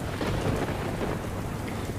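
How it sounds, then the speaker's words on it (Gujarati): Heavy monsoon rain with thunder over Junagadh, Gujarat: a dense, loud roar of downpour with deep rumbling underneath, continuous and close, no voices. "જૂનાગઢ શહેર અને જિલ્લામાં મેઘરાજાની ધડબડાટી"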